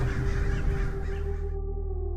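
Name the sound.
American crows cawing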